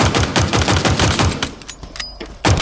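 Rapid automatic gunfire bursts from a Halo Infinite capture-the-flag match, loud and dense for about a second and a half, then sparser shots with a brief high whine before another heavy burst at the end.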